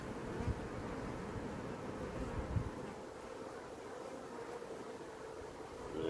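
Honey bees buzz steadily over a hive frame crowded with bees, a dense, continuous drone held close with no voices.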